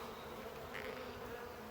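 Bees buzz in a continuous, even drone from an opened top bar hive, heard close and alone.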